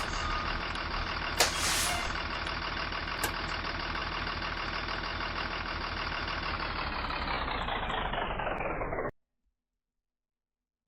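A Blue Bird GMC CV200 school bus in the Rigs of Rods driving game reverses into a garage, its steady diesel engine drone running continuously with a short hiss like an air brake release early on, then cutting off abruptly near the end.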